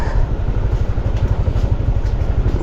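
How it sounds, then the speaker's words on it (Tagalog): A motorcycle engine runs close by with a steady, loud, rumbling low throb, no voices over it, lasting a few seconds. "Malakas rin yung motor ni Aison!"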